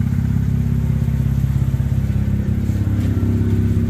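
Mazda RX8 rotary engine idling with the bonnet open after a long warm-up, a steady close low-pitched thrum with a fast even pulsing and no other sounds.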